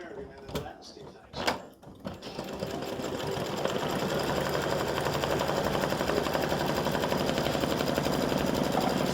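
Sewing machine running a zigzag stitch around an appliqué flip-flop design, a steady rapid mechanical whirring that builds after a couple of clunks and runs continuously, with a voice speaking early on.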